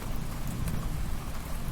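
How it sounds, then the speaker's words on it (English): Heavy storm rain, a dense steady roar of downpour on surfaces, loud and continuous throughout with no voices. "the rain was coming down hard."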